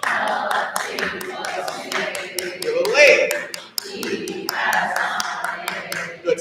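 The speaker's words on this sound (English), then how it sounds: "Sing that, and I'll keep annoyingly clapping." Steady rhythmic hand claps keep time through a choir rehearsal, sharp evenly spaced claps repeating across the passage while singing voices carry on beneath them.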